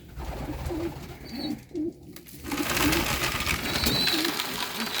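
Soft, low cooing of young pigeons in a pigeon loft repeats steadily through the clip, with a brief rustle in the middle and a rising background hiss toward the end.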